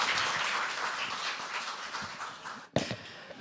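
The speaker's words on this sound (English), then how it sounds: "please give a round of applause for the CEO, Puja Maharaj." Audience applause greeting a startup CEO at a fintech event, a steady broadband wash of clapping for about three seconds that briefly dips and swells again near the end.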